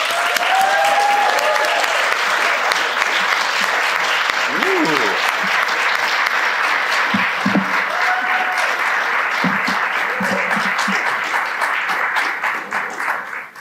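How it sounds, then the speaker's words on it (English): Loud, sustained audience applause fills a room at an award presentation, steady and dense throughout before tapering slightly at the end, with some voices mixed in. "let's give Blake a warm round of applause"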